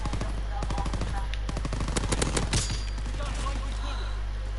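MP40 submachine gun fire in a World War II video game: a loud, close, rapid burst of evenly spaced shots that rises to a dense peak midway and then stops, over a steady low hum.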